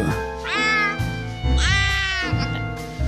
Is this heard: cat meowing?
yes